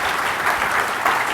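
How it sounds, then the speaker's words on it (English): A conference audience at a 3DEXPERIENCE Forum additive manufacturing panel gives the panelists a round of applause, a brief, steady wash of clapping from a crowd. "can we thank our panelists with a round of applause?"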